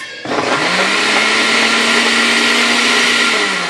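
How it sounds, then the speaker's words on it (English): A kitchen blender whirs steadily as it purees sweet potatoes with water into homemade baby food, starting abruptly and holding a loud, even motor drone with a high whine throughout. "I'm ready to just start my blender"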